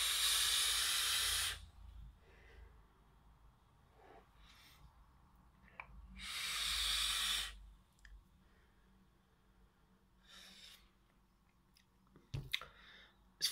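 A vape device loaded with cola bottles e-liquid hisses through two long inhales, each a bright airy rush lasting a couple of seconds, separated by quiet stretches with small clicks and mouth noises.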